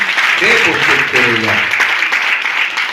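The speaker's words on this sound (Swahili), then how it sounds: "Pigie Yesu makofi." A church congregation claps loudly and steadily for Jesus, a dense wash of applause with a voice speaking over it partway through.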